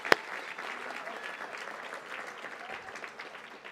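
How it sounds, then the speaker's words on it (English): At an annual awards benefit evening, a crowd gives a round of applause. Steady, moderate clapping comes from many hands, with one sharp, close clap at the start. "Let's give Julio a great round of applause."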